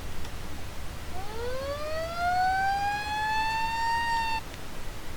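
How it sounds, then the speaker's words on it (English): A police car siren in the BeamNG.drive video game sounds one long, clear wail that rises steeply and holds high before cutting off, over a low steady rumble. "it's just the old siren sound."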